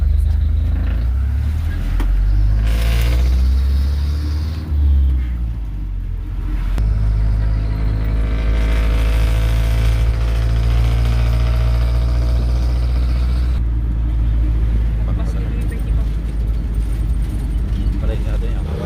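Jeep engine rumbling steadily throughout a ride, loud and continuous low drone with passengers talking over it.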